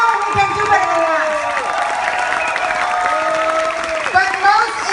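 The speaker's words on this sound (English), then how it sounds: "Come on, with a big round of applause, please." Applause from an audience at a company event, clapping mixed with crowd noise and some cheering, while a speaker's voice carries over the top.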